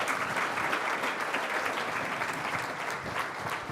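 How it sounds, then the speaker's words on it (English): A technology summit audience applauds in a dense, steady round of clapping that fills the hall evenly from start to finish, with no speech over it. "I'd like a big round of applause, please, for Senator Hagerty."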